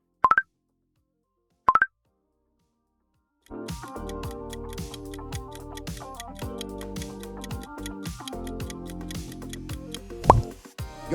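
The Snapchat logo sound gives two short, high electronic chirps in silence, then a plucky, ticking music bed begins and runs to the end.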